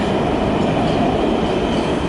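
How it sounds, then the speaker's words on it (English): A metro train in the DMV area rumbles past continuously, a loud, steady rolling roar with a faint wheel hiss and no voices. "That's the metro system."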